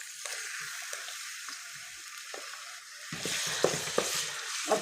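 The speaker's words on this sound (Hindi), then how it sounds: "और टमाटर को, हरी मिर्चों को और प्याज को अच्छी तरह फ्राई कर लेना है।" Tomato, green chillies and onion fry in a pan with a soft, continuous sizzle. Occasional stirring scrapes break through, and the frying grows louder and busier in the second half, with no voices.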